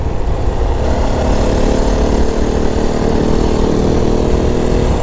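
A stock-exhaust 2025 Yamaha WR450F dirt bike runs with a steady, loud, close engine drone and raspy exhaust note, holding an even pitch throughout without talk.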